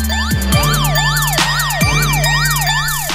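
A loud, close ambulance siren in a video game, its electronic tone sweeping rapidly up and down in a steady zigzag pattern over a low engine drone, with no talking.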